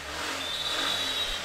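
A TVS Ntorq scooter engine keeps idling with its battery terminal disconnected, giving a steady, even hum with a faint high whine and no talking over it.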